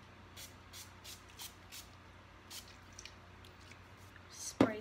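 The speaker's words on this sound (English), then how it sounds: "And now I'm going to take the NYX Matte Finish spray" NYX Matte Finish makeup setting spray is misted in a series of short, soft hissing bursts, about a dozen quick spritzes spaced irregularly, close and quiet.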